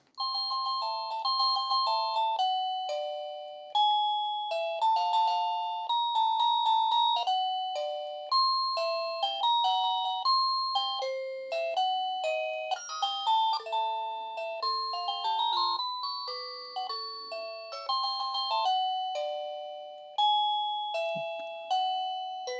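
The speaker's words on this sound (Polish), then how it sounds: "Dzwonki mamy różne." An Annke Whiffle 1080P video doorbell's receiver cycles through its chime tones, a clear, loud sequence of electronic bell-like melodies and ding-dong patterns, each tune starting sharply and fading, playing alone with no talk.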